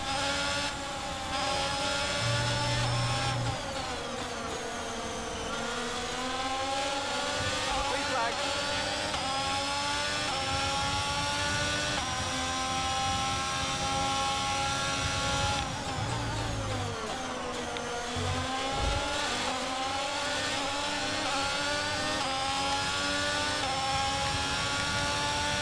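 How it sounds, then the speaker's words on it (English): Race cars in a racing video game accelerate hard at a safety car restart, several engines whining and rising in pitch together, loud and continuous throughout with gear-change dips. "Let's watch that replay there of the safety car restart."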